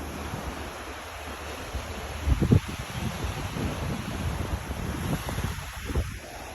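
Ocean waves at the beach of Royal Davui resort in Fiji, a steady broad wash of surf mixed with wind rumble against the microphone, heard close and continuous.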